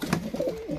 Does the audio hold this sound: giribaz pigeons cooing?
yes